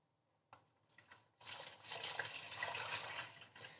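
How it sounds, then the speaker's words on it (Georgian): Milk is poured into a pot to make homemade ice cream, a faint close splashing pour that starts in short bursts, then runs steadily. "ჯერ ჩავასხათ რძე."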